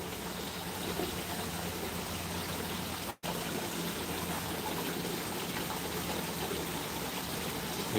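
Water runs from a garden hose at an indoor pond in a continuous splashing rush that holds steady for several seconds, broken only by a brief dropout partway through.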